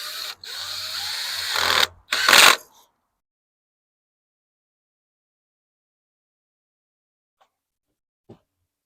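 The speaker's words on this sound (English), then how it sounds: "if I just took this screw and screwed it up in there, it might split my wood" A power drill drives a screw into wood for a few close, loud seconds with a brief pause between bursts, followed by near silence and a couple of faint clicks.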